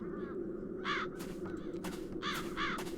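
Several crows give rough, drawn-out caws against a constant low ambient hum in The Dark Eye: Chains of Satinav, the calls overlapping in loose clusters at middle distance with no voices.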